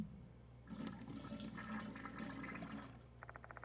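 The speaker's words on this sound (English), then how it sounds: "I push the plunger into the toilet bowl" A clogged toilet being plunged in a horror video game, with water rushing and gurgling for a few seconds, then a short run of rapid bubbling pops as it settles, heard alone without voices.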